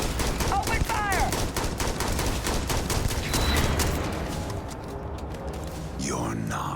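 Gunfire in the video game Starfield during a fight with a Cloaked Terrormorph, rapid repeated shots in bursts with a voice speaking over parts of it, later fading to quieter effects.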